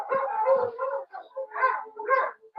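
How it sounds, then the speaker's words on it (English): Several of thirteen farm dogs howl and bark together in the morning, overlapping yowls and yips rising and falling in a continuous, fairly close chorus with brief pauses. "I have 13 dogs here in the farm and they are going crazy in the morning."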